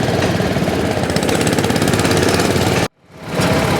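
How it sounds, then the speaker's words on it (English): Old hit-miss engines run at an engine show, a loud mechanical clatter with rapid, rough firing pulses packed tightly together, then a sudden cut to near silence before the chugging swells back in. "A lot of hit-miss engines, all kinds of little old mowers slash tractors."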